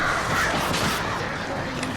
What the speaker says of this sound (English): Birds, cut it out.